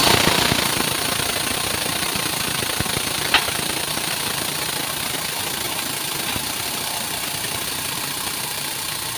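A press forcing out a Mini Cooper front suspension arm bush gives a steady, loud mechanical drone with a faint ticking texture and one brief sharp click partway through, with no voices.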